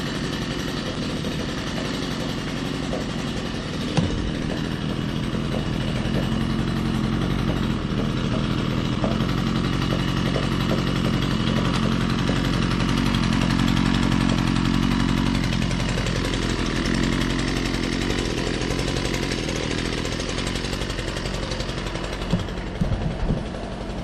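A Husqvarna 122LK straight-shaft string trimmer's small two-stroke engine runs steadily while warming up, a loud, continuous buzzing drone that holds at a fairly even level throughout.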